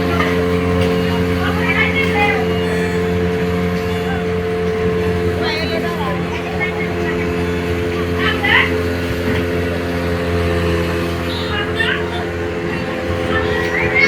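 A speedboat ride at Moinot Ghat on an afternoon: a steady motor drone with strong low harmonic hum runs throughout, with wind and water wash over it, and children and adults talk intermittently over the engine.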